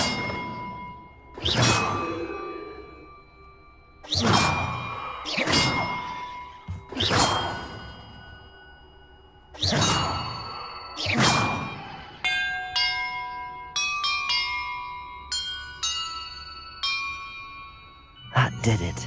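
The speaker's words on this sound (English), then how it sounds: "the order I'm supposed to ring the bells in" Bells struck in the game Hogwarts Legacy ring out one after another, each loud metallic clang decaying slowly, followed by a quicker run of lighter chiming tones and a final strike.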